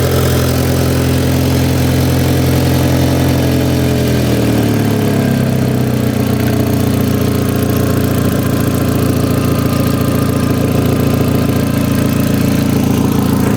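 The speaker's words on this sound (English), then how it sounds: "A bit loud from on that cold start, but it's gone quiet now." Audi TT engine idling after a cold start, a steady mid-pitched hum that settles lower and smoother after a few seconds and then runs evenly, close and loud with no talking.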